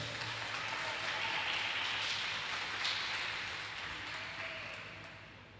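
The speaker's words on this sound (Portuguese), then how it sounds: "Aplauda o Senhor nosso Deus." A church congregation applauds during worship, a soft, diffuse patter of many hands heard at a distance, steady at first and then tapering off toward the end.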